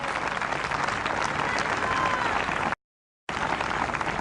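A church congregation at an outdoor evangelical event in a park claps in praise, a dense continuous wash of applause interrupted by a brief dropout before resuming just as strongly.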